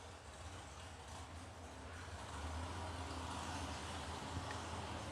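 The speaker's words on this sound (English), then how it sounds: "So we'll take a little break there because I hear race cars." Drag race cars roar far off at the T&T Motorsports Oil City Classic track in Edmonton, Alberta, a faint, steady, broad rumble that holds for several seconds without clear separate passes.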